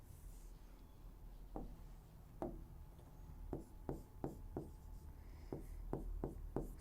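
Marker or chalk strokes on a classroom board, a series of short, distinct taps and scratches at an uneven pace, moderately faint, with a low room hum underneath.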